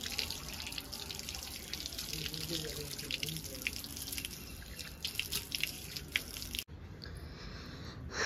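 Hot water runs from a tap in a village home in Noida, a steady splashing, dripping stream close by that carries on throughout and stops abruptly near the end, with faint talk underneath.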